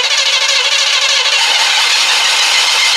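A square body Chevrolet short bed truck's engine cranks over continuously, a loud, steady rattling churn filling the clip without talk.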